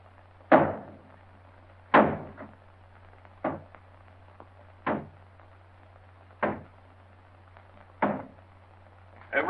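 Repeated heavy blows against a wooden door as it is being broken down, about seven loud thuds spaced roughly a second or more apart, each with a short rattling decay over a low steady hum.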